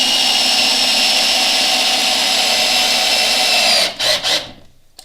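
Parkside PABS 20-Li D4 cordless drill driving an 80 × 6 mm screw with a Bosch PH3 bit, a loud, steady, close whine that slows and stutters in a few final bursts before stopping.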